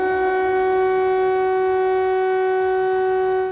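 An air raid siren wails over a Ukrainian city, a sustained loud steady tone with strong harmonics holding for several seconds before cutting off at the end.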